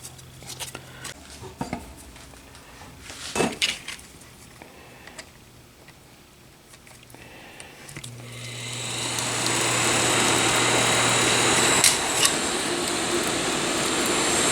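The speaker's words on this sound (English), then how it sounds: "it's pulling quite a bit more air than it was before, and it's much quieter" A bathroom exhaust fan running on a newly fitted replacement motor starts up partway through and settles into a steady, fairly loud broadband whoosh of moving air, preceded by a few small clicks and handling knocks.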